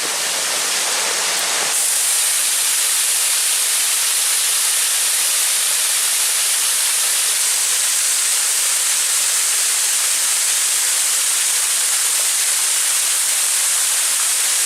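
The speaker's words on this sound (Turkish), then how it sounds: "Belki de göreceğimiz en güzel şelale bu bence." Steady, loud broadband rush of the Kocadere waterfall in Datça, a continuous roar of falling water close by with no voices throughout.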